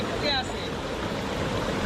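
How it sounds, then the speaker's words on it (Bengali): Fast, heavy water of a flash flood rushing down a stream bed in the hills of Bandarban, a steady broadband roar filling the whole clip, with a brief whistle-like tone early on. "বয়ে যাওয়া স্রোত কিন্তু আরও বেশি প্রবল হচ্ছে"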